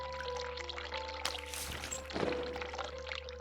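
A video game character urinates into a toilet, a steady pouring trickle of liquid that swells midway and continues under a constant background tone.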